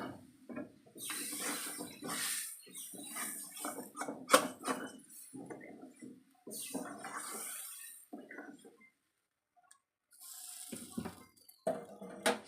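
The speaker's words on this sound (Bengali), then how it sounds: "এবার জলটা দিয়ে দেব।" Water is poured into a pan of spiced, cooked prawns, giving splashing and sizzling bubbling up close, with intermittent clatter and a short quiet gap.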